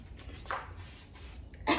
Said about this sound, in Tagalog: I-spray natin sa buong katawan.